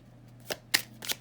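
Tarot cards shuffled in a few quick riffling bursts, near and clear, with short pauses between them and no talk.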